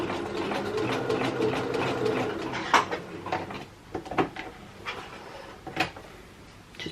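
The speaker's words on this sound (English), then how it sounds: "And we are sewing." A sewing machine runs in short stitching bursts at home, stopping and starting with sharp knocks and clatters as fabric is handled, close and moderately loud.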